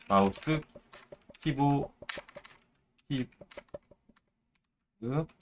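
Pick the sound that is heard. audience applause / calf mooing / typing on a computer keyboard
typing on a computer keyboard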